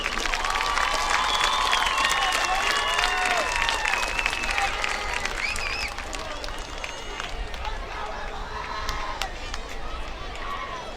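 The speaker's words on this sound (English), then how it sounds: "Ladies and gentlemen, would you please give a warm round of applause for all of your 2023 homecoming sports." A stadium crowd at a high school homecoming football game gives dense, sustained applause and cheering for the homecoming court, loud and continuous with shouts mixed in, thinning slightly toward the end.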